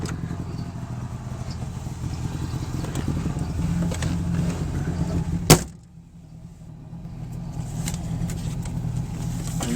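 A Saab 96 car running near the listener, its engine droning steadily, then a sharp door slam, a brief hush, and the engine sound building again as it pulls away for a ride.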